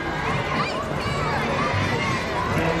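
Christmas parade crowd in West Alabama calling out greetings, a dense wash of distant shouting and chatter that runs continuously under the scene.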